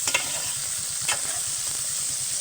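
Bitter gourd pieces tossed with turmeric in a frying pan give a steady close sizzle, with a few louder scraping stirs near the start and around the one-second mark.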